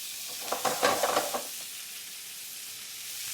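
Chopped artichokes and softened onion sweat in a pan, a steady hiss of gentle sizzling with a brief burst of scraping stirs near the start before settling into even frying.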